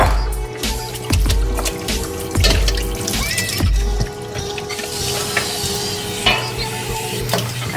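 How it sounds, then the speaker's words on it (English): Grated potatoes for hash browns are rinsed in a bowl of water, with close sloshing, splashing and pouring, plus a few clunks against the bowl. "Now you've got to rinse it again. And pour it"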